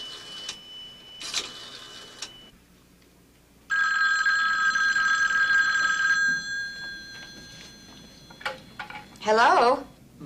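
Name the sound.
telephone ringing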